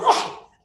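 A single sharp, close sneeze that bursts out and trails off over about half a second, followed by a brief hint of a voice starting to speak.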